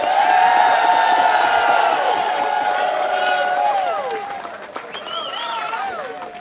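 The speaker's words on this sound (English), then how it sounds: "Can I have one round of applause for our amazing candidates?" A crowd at a Bermuda general election night event in 2025 cheers, whoops and applauds Progressive Labour Party candidates, loud and lively at first and then easing off, with raised voices calling out over the clapping.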